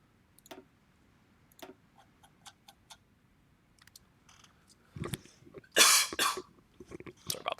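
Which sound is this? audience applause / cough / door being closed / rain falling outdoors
cough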